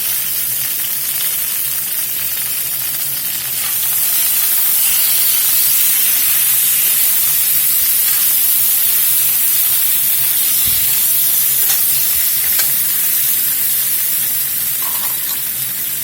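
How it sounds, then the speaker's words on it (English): Wet pork belly laid in a hot pan fries with a loud, steady sizzling hiss, dense spattering crackle running unbroken and close throughout, with faint knocks of the pan. "We're going to lay this down. It's going to pop and splatter and carry on because it's wet."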